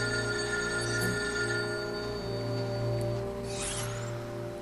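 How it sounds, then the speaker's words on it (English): A telephone rings in Lightning Returns: Final Fantasy XIII, a repeating bell-like tone sitting within a dense, steady bed of game music and ambience at moderate level. "Now this phone is ringing"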